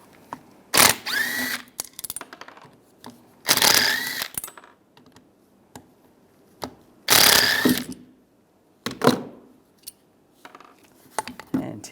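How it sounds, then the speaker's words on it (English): Ratchet with a T30 Torx socket backing out wiper motor screws on a 2007-2013 Chevy Silverado, several separate bursts of quick clicking, close by, with quiet pauses between each turn. "Then we're going to use a T30 socket."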